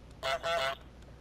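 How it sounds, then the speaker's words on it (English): A cartoonish goose honks in Untitled Goose Game, two loud nasal honks in quick succession, close and alone over a low background hum. "I'm a goose!"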